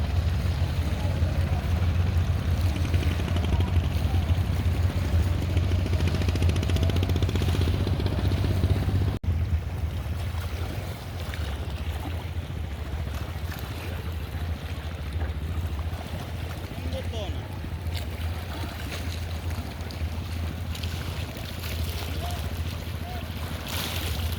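A fishing boat sets out for hilsa fishing with a constant low engine drone mixed with water and wind noise, growing somewhat quieter partway through as it moves off.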